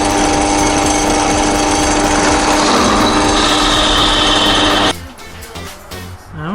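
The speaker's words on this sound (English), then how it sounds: "we are actually drilling too far down" A power drill bores into an aluminum roof rack on an XJ Jeep, a loud, steady high-pitched grinding whine that stops abruptly near the end, followed by quieter handling noises.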